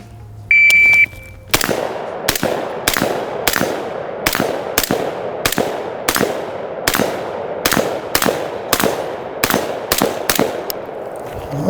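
Fifteen rifle shots ring out on a shooting range, sharp loud cracks at a steady, fairly quick rhythm, each trailing a short echo, with a brief electronic beep just before the first shot.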